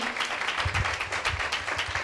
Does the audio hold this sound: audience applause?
yes